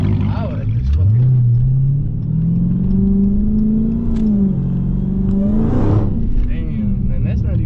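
A Dodge Hellcat with a 700-horsepower engine and a muffler delete revs loud and close, its pitch climbing and holding in sustained pulls, with voices speaking over the roar.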